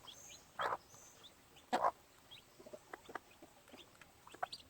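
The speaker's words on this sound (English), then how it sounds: "Oh, mama hen's got her young ones out." A mother gamefowl hen out on the ground for the first time with her young chicks, giving a few short, faint clucks spaced apart, with soft peeping calls scattered between them.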